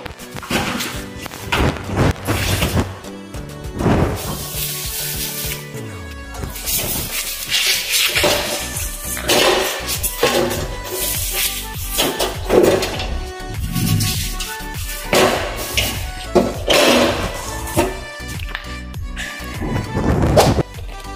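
A pressure cooker is scrubbed clean with cleaning paste, giving steady rough scouring punctuated by repeated metallic knocks and clunks, loud and close, with no talking.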